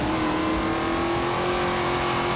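A car engine in Forza Horizon 3 revs hard and loud, a continuous high-pitched roar that holds steady without any talk.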